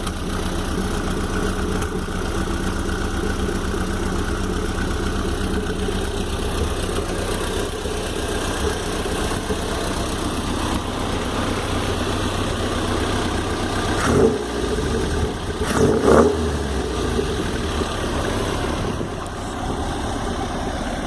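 A Locost Lotus 7-style roadster's nearly cold engine idles steadily at close range, a low constant rumble with slight vibration and a couple of brief knocks or bumps toward the end.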